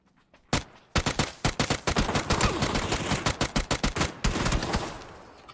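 Rapid automatic gunfire crackles in PUBG on PC, heard as dense bursts of sharp close shots with brief gaps between the volleys and no talk over it.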